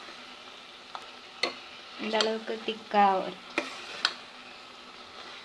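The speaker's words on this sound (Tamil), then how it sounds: "இப்போ பாருங்கள், இது நான் அரைச்சி ஊற்றி கொதிக்க ஆரம்பிச்சிச்சு." A thick pineapple pachadi simmers in a pan while a spoon stirs it, giving a few soft scraping and tapping knocks at a close, quiet level, with someone speaking briefly midway.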